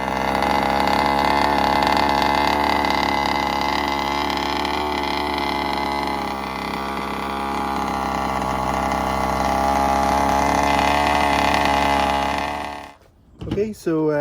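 A KM Blade 34cc engine idles steadily during break-in, a loud continuous hum with a dense buzzing drone that holds nearly constant before cutting off abruptly near the end.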